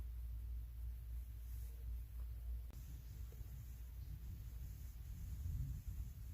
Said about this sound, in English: We're still getting some thunder, but the rain did finally stop.